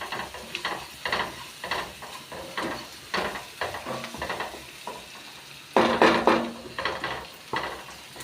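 Roasting jackfruit seeds with turmeric are stirred in a pan, giving repeated scraping strokes over a steady low sizzle, with one louder, busier burst of frying near the end.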